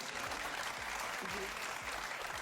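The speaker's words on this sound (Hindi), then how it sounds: "तालियां बजाओ मेरे लिए" Studio audience applause, steady dense clapping from a crowd filling the whole moment at moderate volume, alone without talk.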